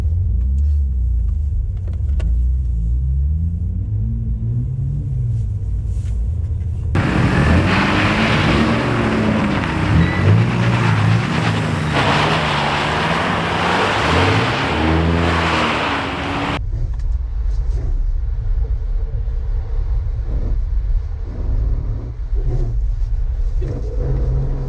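A vehicle drives with its engine running, giving a steady loud rumble throughout, with a rougher, louder surge of engine noise in the middle before settling back. No voices are heard.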